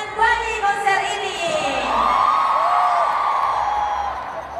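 A concert crowd at an SM Town show in Jakarta cheers and screams in a loud, sustained roar, with high yells rising above a constant wash of noise.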